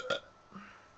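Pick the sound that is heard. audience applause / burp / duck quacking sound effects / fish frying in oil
burp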